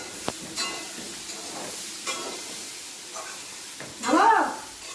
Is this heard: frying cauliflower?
yes